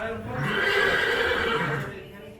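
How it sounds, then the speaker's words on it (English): An Arabian horse lets out one loud, drawn-out whinny close by, lasting about two seconds before fading. "In his downtime, Ahmed and his sons tend to his Arabian horses"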